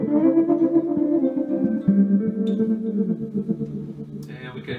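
An ELK PA-151 tape echo machine adds repeating echo to a microphone signal, giving a sustained, smeared tonal wash with trailing repeats that thins out toward the end.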